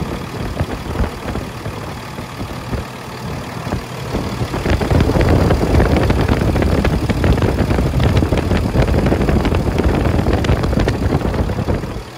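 The 6.7 liter Cummins ISV inline-six diesel of a 2016 Freightliner M2-106 truck idles with a steady low rumble and clatter, getting louder and fuller partway through, with no voices.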